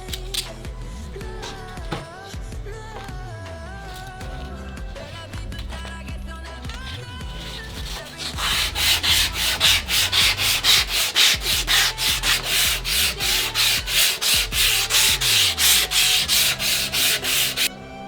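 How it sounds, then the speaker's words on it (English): A wooden gymnastic ring is sanded by hand on the inside with a 120 grit shop roll. Soft scattered rubbing at first, then a close, steady run of rhythmic rasping strokes, with no talking. "For the inside, I'll be using a 120 grit shop roll."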